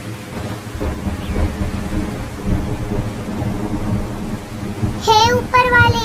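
Thunderstorm with rain in a Hindi animated cartoon story, steady rain and rumbling thunder under speaking voices, ending with bird-like chirping calls near the close.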